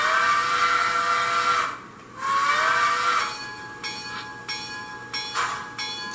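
An HO scale model train under DCC control sounds loud sustained horn-like blasts broken by a short gap, then quieter, repeated short tones with a bell-like ring over a low, steady running hum.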